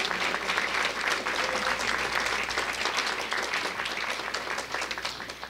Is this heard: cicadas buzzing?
no